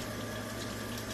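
Warm tap water runs steadily from a kitchen faucet while flour and salt are being mixed for salt dough, giving a constant, even rush of moderate loudness with no talking.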